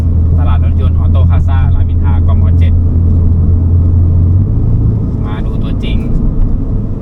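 A 2024 Mini Cooper F56 LCI John Cooper Works drives with a steady, loud low engine and road rumble that shifts pitch partway through, while someone talks over it.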